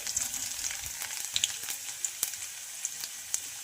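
Half a spoon of cumin seeds and garlic frying in hot oil in a pan: continuous bright crackling sizzle with sharp pops scattered throughout, close and moderately loud, no talking.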